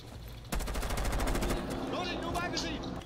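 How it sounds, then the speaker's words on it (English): Automatic gunfire in Rainbow Six Siege, a sudden sustained burst of rapid shots starting after a short pause, loud and close, followed by further shooting and game sounds. "The guy shot me, and I team killed him."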